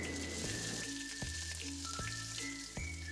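Radhuni spice and green chillies sizzle in hot mustard oil in a pan, a quiet, continuous frying hiss with occasional clinks, and no voices.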